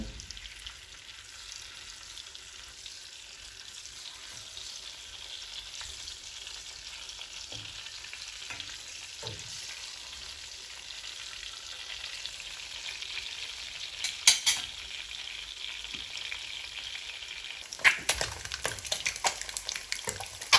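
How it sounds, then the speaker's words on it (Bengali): Eggs fry in hot oil until browned and crisp, a continuous soft sizzle and crackle running the whole time, with a few sharper scrapes and pops near the end. "ডিমগুলো আমি লাল লাল করে একটু কড়া করে ভেজে নিব"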